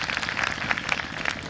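Audience at a Hindi religious gathering clapping for God, a brief burst of dense, fairly loud applause with rapid overlapping claps.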